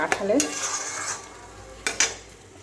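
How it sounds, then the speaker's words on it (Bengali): Ground cumin paste and spices fry in a pan for a yogurt jackfruit and prawn curry, a soft sizzle under a few sharp spoon scrapes and clinks against the metal. "মশলাগুলো এখন ভালো করে ভাজা হোক।"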